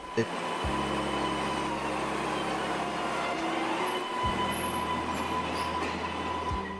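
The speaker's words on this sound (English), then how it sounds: "the Type 8s are also at a C list because I don't like the sound that they emit when they start off" An MBTA Type 8 light rail train starts off with steady low electric motor tones that rise in pitch as it pulls away, joined by rumble and faint wheel noise, with a voice talking over it.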